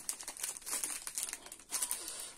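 Paper packaging torn and opened by hand for a scrapbooking album, a close, fairly faint stretch of continuous crinkling and rustling with small ripping accents, no talk.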